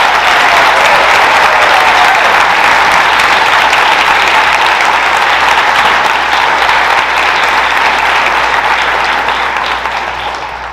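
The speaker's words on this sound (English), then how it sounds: "So how about a nice round of applause for the group?" A large crowd at a board of education meeting applauds a student group, with loud, sustained, even clapping that fills the room and eases off only slightly at the end.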